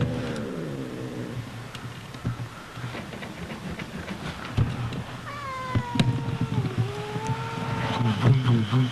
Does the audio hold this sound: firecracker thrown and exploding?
no